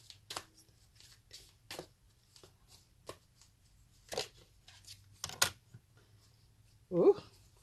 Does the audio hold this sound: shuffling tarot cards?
yes